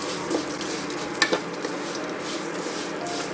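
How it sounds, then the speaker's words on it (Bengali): Vermicelli (semai) frying in ghee, a dense, even crackling sizzle with a faint utensil scrape or two, steady and fairly close, nothing else over it. "এখানে আমি ঘি দিয়ে ভেজে নিয়েছি"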